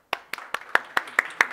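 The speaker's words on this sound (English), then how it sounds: "Big round of applause" Seven sharp, evenly spaced claps ring out, loud and close, with each one decaying quickly before the next. The pattern sounds like one person or a small group starting a round of applause.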